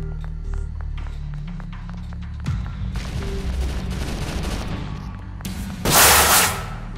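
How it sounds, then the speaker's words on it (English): Gunfire in a Roblox SCP video game: rapid, close shots crackle in a steady string, then heavier bursts pile up into a loud volley with a bright blast near the end. "Why are they shooting scientists on sight?"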